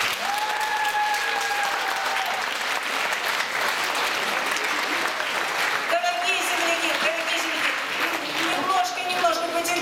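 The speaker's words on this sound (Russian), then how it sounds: "горячие аплодисменты за такой горячий прием." Warm applause from a concert audience, steady dense clapping filling the hall throughout, with a presenter's voice and some sung or sustained tones cutting through above it.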